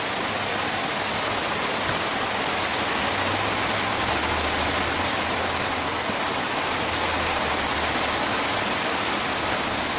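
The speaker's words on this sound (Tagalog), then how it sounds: "Maulan yung demo natin ngayon mga boss. Yan, lakas ng ulan." Heavy rain pours steadily and loudly outdoors behind a house where a sound system is being set up, a dense unbroken roar with no talking.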